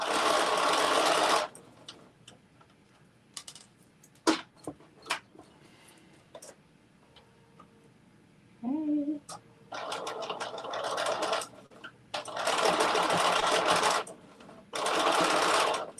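Bursts of a sewing machine stitching a bucket hat, including a quick back stitch: a loud, fast, buzzing run at the start, then several longer runs later, separated by a quieter stretch with clicks and someone talking.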